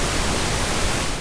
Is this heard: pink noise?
yes